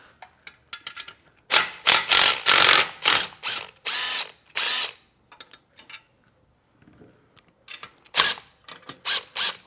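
A ratchet socket wrench turning 12mm exhaust nuts on a 2024 Triumph Bonneville Bobber, with loud bursts of rapid clicking in short strokes, a quiet pause, then more ratcheting.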